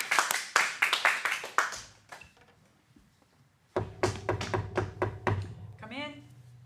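A small group at an adult improv class in an acting studio claps in short bursts of distinct, sharp handclaps, pausing in between before another round, with a voice speaking near the end.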